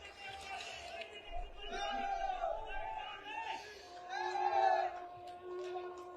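A large political rally crowd in Jind, Haryana cheers and shouts in swelling waves, with whoops and bellowing chatter rising and falling, heard moderately close and without clear clapping.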